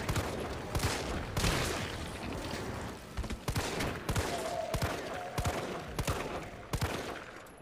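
Gunfire in the video game Resident Evil 3 Remake, a rapid run of sharp, loud shots in quick bursts with brief pauses between them, alone without talk.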